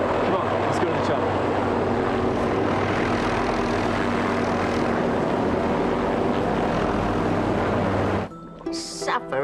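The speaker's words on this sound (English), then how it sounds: "It's the chopper. The crane helicopter." A crane helicopter flies close overhead with a loud, continuous rotor and engine roar that cuts off abruptly near the end, followed by a brief synthetic tone.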